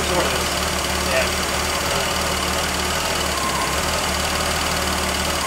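A Ford 200 inline-six engine with a 2V carburetor, a replaced defective head and exhaust leaks idles steadily near 750 RPM, a loud, even mechanical rumble with a faint tick running throughout.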